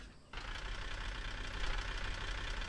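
A car engine starts and settles into a steady, rumbling idle in the game Car For Sale Simulator 2023, loud and close, with no talk over it.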